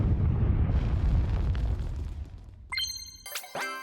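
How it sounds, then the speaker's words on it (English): Fireworks in the Nintendo Switch 2 Welcome Tour game burst in a deep rumbling boom that slowly fades, followed by bright chiming electronic tones and a rising whistle-like effect, no talking. "I'm just gonna keep mashing the fireworks button"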